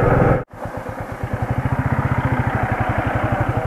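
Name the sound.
motorcycle engine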